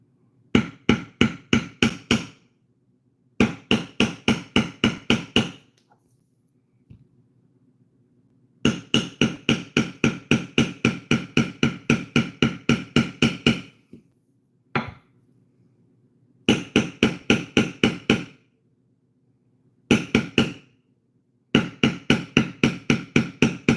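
Metal bevel tool struck repeatedly with a mallet to texture leather for a target, in rapid evenly spaced taps grouped into bursts with pauses between them, sharp, loud and close.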